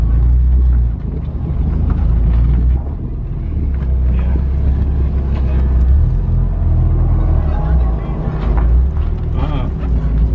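A car with a faulty differential, running at a track event, gives a steady low mechanical drone with heavy wind buffeting throughout; voices come through faintly.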